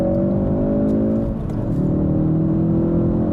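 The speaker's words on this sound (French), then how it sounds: "On active le mode, on maintient l'accélérateur au plancher." A 2017 Ford Focus RS engine holds a steady, loud full-throttle drone during launch control acceleration, its pitch sliding and rising through the run with no voices.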